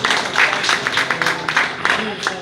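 A convention audience claps for a family in a short, fairly loud burst of irregular hand claps, with voices mixed in.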